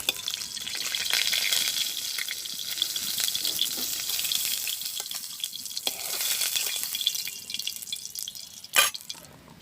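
Fish fries in oil in a wok in a village kitchen, giving a bright, crackling sizzle that rises and fades, with a sharp clatter near the end.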